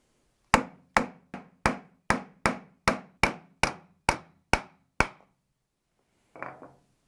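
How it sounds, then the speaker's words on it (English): Sharp wooden knocks from a block of wood catching on a lathe while end grain is cut, about eleven loud evenly spaced hits over five seconds, followed after a pause by a brief softer rattle. "I'm cutting up into end grain by mistake and I get a catch"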